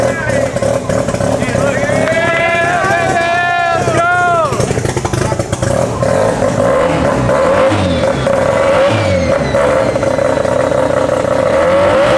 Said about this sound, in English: We are about to fire up the Mad Labs 13B.